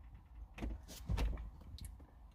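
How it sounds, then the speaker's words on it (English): A Jaguar XK8 door handle is pulled and the frameless window drops away from its seal, giving a few faint, quick mechanical clicks and a short soft whir, close by and quiet. "So when you pull the handle, you'll see the window drop,"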